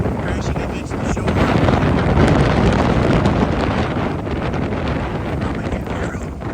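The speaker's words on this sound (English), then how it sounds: "Gentle waves crashing against the shore." Ocean waves breaking on a shore under strong wind, a broad, loud roar with steady wind buffeting the microphone throughout.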